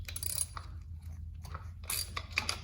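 A new chain turns over an engine drive gear sprocket, giving quiet, close ratcheting clicks and mechanical ticks in an uneven rhythm, with no talking.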